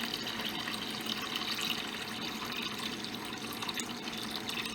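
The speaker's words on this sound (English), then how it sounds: "I'm going to drain it into this large bowl." Rice soaking water drains steadily into a large bowl, a continuous close splashing pour with no pauses.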